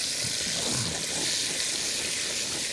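Peppers and onions hitting a hot pan, a loud steady sizzle and hiss of frying vegetables that stays dense and continuous throughout, close up.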